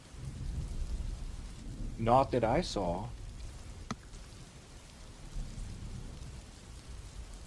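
Steady rain hisses throughout with a low rumble of a thunderstorm underneath, moderately loud, while a person briefly speaks over it.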